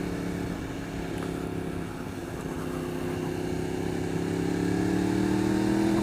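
A 2015 Yamaha R1 sport motorcycle engine drones steadily while riding, its deep, even note swelling slightly louder and rising in pitch toward the end, with no voices.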